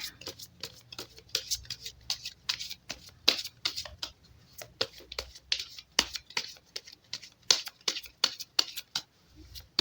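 Tarot cards are shuffled close up in rapid, irregular bursts of crisp riffling and slapping, with quiet talk in places.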